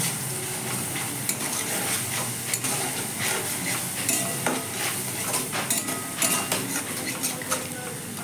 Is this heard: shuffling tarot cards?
no